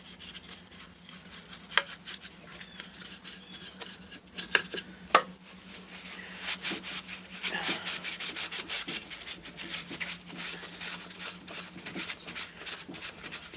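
A DIY paint stick crate is rubbed by hand with steady, soft scraping strokes, close and fairly quiet, with a few sharp knocks early on and the rubbing growing denser and a little louder toward the end.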